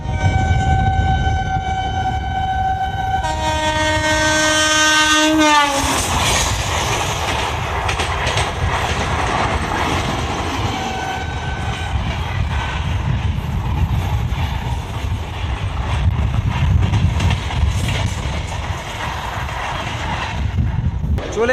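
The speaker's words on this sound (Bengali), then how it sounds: "আর এনজেপি থেকে আমবাড়ি পর্যন্ত তার সেই যাত্রাতে সে কিন্তু তার দ্রুত গতি ধরে নিয়েছে আর খুব প্রচণ্ড গতিতে এগিয়ে চলেছে" A local passenger special train from New Jalpaiguri to Haldibari sounds its horn briefly at the start, then runs at high speed with a loud, continuous rumble and rattling wheel clatter heard from on board.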